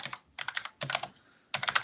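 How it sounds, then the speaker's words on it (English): Clattery mechanical computer keyboard typed in quick bursts of close, sharp key clicks, separated by brief pauses, with no voices. "I've got a mechanical keyboard, you see, it's very clattery"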